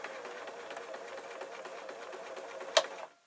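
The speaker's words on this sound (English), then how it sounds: "top stitching as close to the edge as possible" A sewing machine runs steadily in rapid, even stitching for about three seconds, ending with a brief sharp click before stopping.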